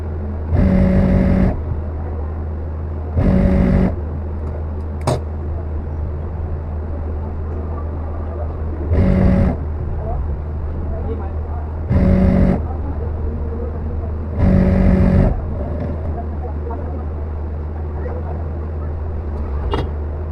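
A sewing machine stitches a single line along a half-inch folded hem on a straight-bottomed men's shirt, its motor droning steadily throughout, broken by a few brief louder bursts.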